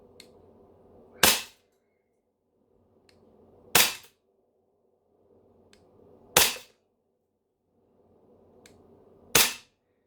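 Four loud, sharp reports from a CO2-powered airsoft gun, spaced about two and a half seconds apart, each cracking alone over a quiet, faintly humming background.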